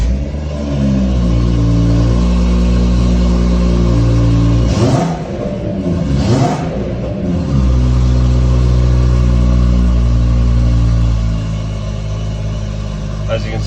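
BMW M140i with a stage 2 remap, its engine running loud and steady with a deep droning tone and revving swells, interrupted briefly midway by a couple of short bursts.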